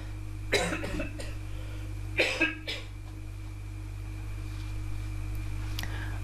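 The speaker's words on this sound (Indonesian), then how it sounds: "aduh kok mau batuk lagi ini" Two short bursts of coughing, each a couple of sharp hacks close to the microphone, over a low steady hum.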